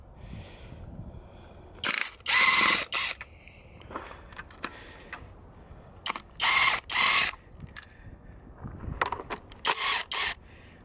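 An ACDelco cordless ratchet loosens a 10 mm bolt on a Hyundai Sonata, giving three loud, whirring mechanical bursts of a second or so each, separated by quieter clicks and handling noise.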